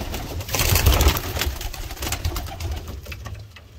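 Pigeons in a loft coo with low, throaty, repeated calls, close and fairly loud, amid a soft rustling background and no talking.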